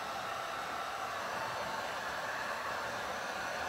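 A heat gun blows a steady, even hiss of hot air while heating a wood appliqué on painted furniture, constant and close with no pauses.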